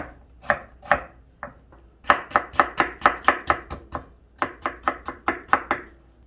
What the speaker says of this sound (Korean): 처음부터 성급하게 썰려고 하지 마시고 또박또박 천천히 일정한 두께로 썰어주세요